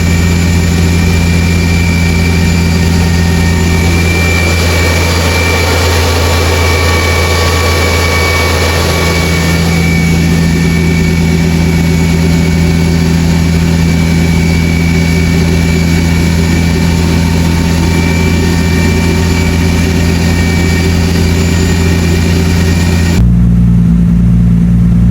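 A tuned Nissan Skyline with an RB26 engine running on a dyno, making close, loud, steady engine drone with a pitch shift partway through and a sudden change near the end.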